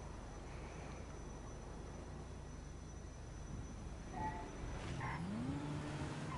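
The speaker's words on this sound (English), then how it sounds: "Dude, this car sounds nice with double turbo." A double-turbo car engine in a Grand Theft Auto-style game revs steadily, then rises with a climbing whine near the end, fairly faint under game ambience.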